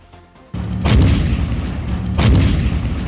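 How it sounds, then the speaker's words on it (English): Leopard tank main gun firing on a Russian armored convoy in the Ukraine war, heard as two heavy booming blasts about a second and a half apart, loud and close, each followed by a rumbling roar that lingers. "The Leopard then begins to attack."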